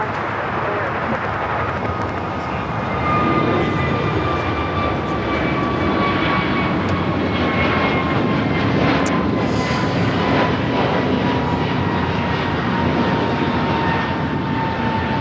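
An American Airlines A321neo takes off from runway 25 right at LAX, producing a loud, steady engine roar with faint whining tones drifting downward across it.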